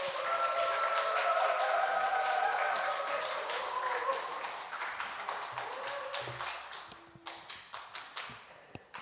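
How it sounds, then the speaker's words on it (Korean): A church congregation at a Sunday afternoon service applauds to welcome a guest lecturer, the clapping full and sustained at first, then thinning out into a handful of separate claps near the end. "일단 나오실 때 큰 박수로 환영해 주시기 바랍니다"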